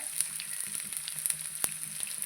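Chopped shallots and green chillies sizzle in hot oil, a soft continuous frying hiss dotted with small crackles and pops, close and fairly quiet with no talk.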